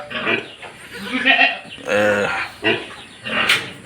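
Several goats bleat and call close by, overlapping cries with a few grunting sounds, lively and fairly loud.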